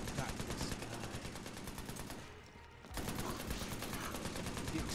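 Gunfire in the co-op shooter video game Army of Two: The Devil's Cartel sounds as a dense, continuous rattle of automatic weapons, briefly dropping away near the middle before resuming, fairly faint and steady throughout.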